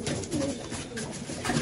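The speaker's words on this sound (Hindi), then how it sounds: "ये एक से एक बेहतरीन पटियाला कबूतर है इसमें भाई" Patiala pigeons coo in a short burst, soft low rolling calls close by, mixed with faint background murmur.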